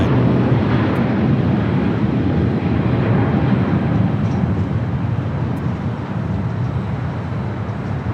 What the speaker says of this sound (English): do have a Delta A350 heading to Shanghai, rolling down 25 right on the south side.